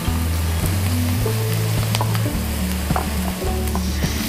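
Onion and sausage frying in a pan, a loud, steady sizzle with crackling throughout and occasional stirring clatter, no voices.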